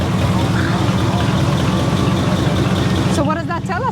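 The original stock, unrestored engine of a 1949 Ford Mercury idles with a steady, loud low rumble throughout, and a voice begins talking over it near the end.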